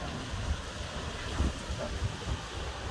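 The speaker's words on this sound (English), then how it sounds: "Wind gusts are strong" Strong wind gusts from an approaching cool-front thunderstorm sweep through a dragon fruit lane, a steady roaring rush with low buffeting bumps of wind against the microphone.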